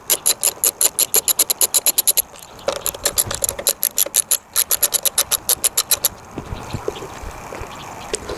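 A hand ratchet fitted with a 5/16 socket clicks in fast, steady runs close up while fuel pump bolts are backed out on a John Deere Z335E mower, with short pauses between bursts.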